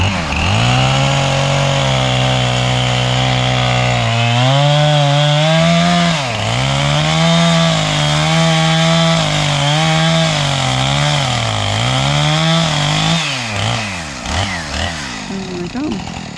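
A chainsaw runs loud and close, its engine note dipping and surging repeatedly as it cuts short logs into firewood lengths, then bogging down and tailing off at the end.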